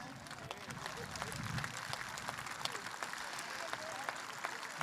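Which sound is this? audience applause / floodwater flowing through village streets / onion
audience applause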